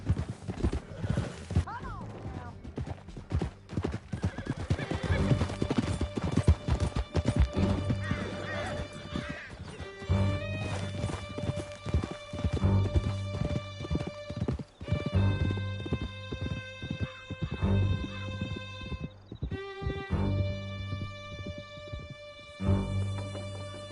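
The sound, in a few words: horse galloping in video game Red Dead Redemption 2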